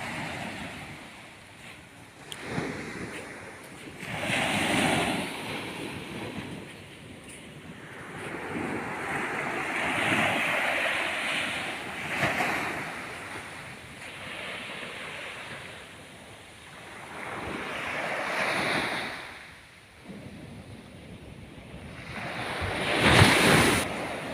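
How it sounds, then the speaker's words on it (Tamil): Waves roll onto the shore in slow surges, washing in and receding, with wind buffeting the microphone and a louder crash near the end. "கடலோட அந்த அழகான அந்த கடலை அலையோட சத்தத்தை ரசிச்சுட்டு"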